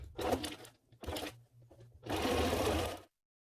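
A sewing machine stitches drapes in close, loud bursts: two short runs, a brief quieter stretch, then a longer steady run that stops abruptly.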